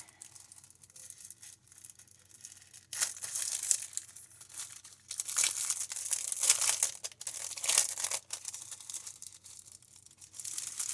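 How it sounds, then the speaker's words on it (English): Sheets of mulberry paper handled and rustled during a craft supply unboxing, close crinkling and crackling in repeated bursts of varying strength, with quieter gaps between and no talk. "And then we got some papers. Looks like mulberry paper."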